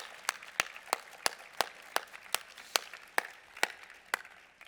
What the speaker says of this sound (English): So can we give a round of applause for Judy and Rex, please?